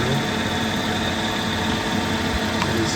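A lapidary 220-grit grinding wheel runs steadily while a cabochon is shaped, giving a continuous motor hum and whir at close range with no break in level.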